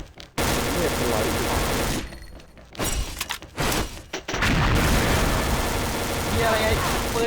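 Heavy gunfire in the online shooter XSHOT: long stretches of loud, rapid firing broken by short pauses and a few single thumping shots, with a player's voice talking over it.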